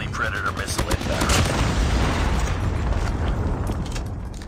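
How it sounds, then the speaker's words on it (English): Predator missile explosions and gunfire in Call of Duty, a loud dense barrage of booms and rattling shots with a rumbling low end, voices audible under the din. "Friendly predator missile inbound."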